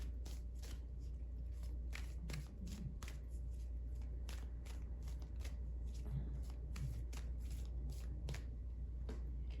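Tarot cards are shuffled by hand in quiet rapid bursts of riffling and snapping, repeated many times over a low steady hum.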